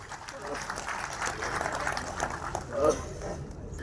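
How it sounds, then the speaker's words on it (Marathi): Applause from a large gathering of retired employees at a meeting hall, a steady patter of many hands clapping throughout, swelling briefly near the end, with a voice over it. "एकदा तुमच्यासाठी तुम्ही जोरदार टाळ्या वाजवा"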